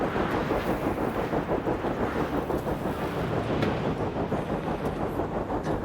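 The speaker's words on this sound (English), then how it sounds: "Seems a bit windy." Rushing, gusting wind on Venus in the video game Stationeers, a dense roaring low rumble with a rough, churning texture, steady and loud throughout with no voices.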